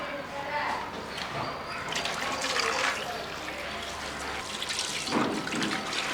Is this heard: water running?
yes